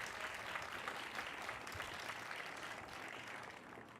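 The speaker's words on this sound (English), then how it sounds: "That does deserve an applause." An audience clapping at a meeting, a sustained wash of applause at low level that fades slightly toward the end, with no talking.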